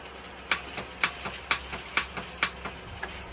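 A 2017-or-later Polaris Sportsman 850 High Lifter ATV with a failing starter gives off a rapid, steady series of sharp mechanical clicks, roughly four per second, close and distinct over a quiet background.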